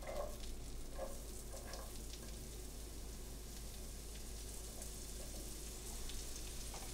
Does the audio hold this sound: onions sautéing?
yes